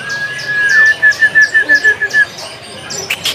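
An orange-headed thrush sings a steady run of about ten quick, even, whistled notes, then stops; scattered chirps from other birds sound in the background.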